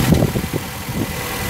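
A 2008 Nissan Altima's 2.4 liter four-cylinder runs at a close, steady idle, its low rumble holding even throughout with no voices.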